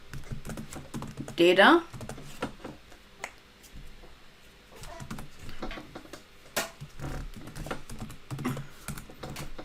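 Code is typed on a computer keyboard in quick, uneven bursts of close clicks and taps, while someone talks over the keystrokes.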